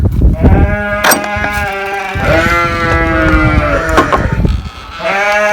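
Several sheep and lambs bleat loudly and close by in a barn, overlapping calls in an enclosed space with faint shuffling between them.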